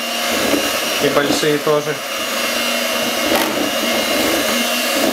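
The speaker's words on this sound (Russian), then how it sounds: "Взялись за миксер наши маленькие поварята" An electric hand mixer whirs steadily nearby while homemade ice cream is being made, a constant loud motor drone throughout, with children and an adult talking briefly over it.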